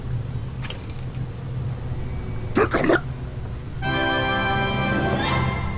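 Keys jingling inside The Book of Unwritten Tales adventure game: a short metallic jangle in the middle, followed by a sustained tonal chime, all set over a steady low game hum.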